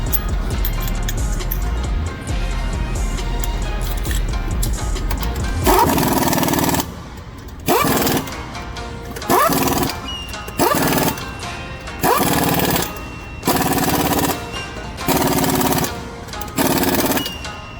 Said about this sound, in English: Once you start them by hand, then you can use the impact.